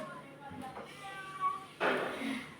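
A cat meows a few times, fairly faint and drawn out, with a louder wavering cry toward the end over quiet room noise.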